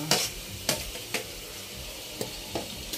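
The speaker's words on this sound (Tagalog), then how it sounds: "Mag-gisa na tayo. Go for the pansit." Ingredients for pancit noodles sauté in a pan with a steady sizzle, broken by several sharp scrapes and clanks of a spatula stirring at irregular intervals, close and fairly quiet. No voices.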